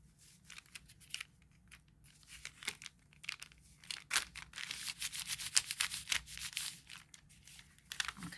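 Paper bag material is folded and pressed down for an accordion pocket, producing close, quiet crinkling and rustling in irregular bursts that grow busier toward the end.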